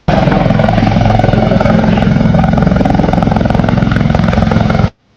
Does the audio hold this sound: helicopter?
yes